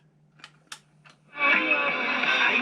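An old cassette player plays through a small unamplified speaker: a few faint clicks, then thin, harsh, distorted music bursts in and continues at a steady level.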